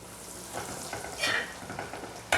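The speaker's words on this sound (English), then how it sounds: "You don't have to fry for long." Mortadella slices frying in hot oil in a pan, a steady crackling sizzle with brief stirring bursts and a sharp spatter near the end, close and moderately loud.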